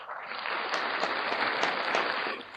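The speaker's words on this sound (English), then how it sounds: "I'm going to give them a quick round of applause" Canned applause effect played on a sports talk show, a steady dense wash of clapping lasting a couple of seconds, moderately loud and alone without talk.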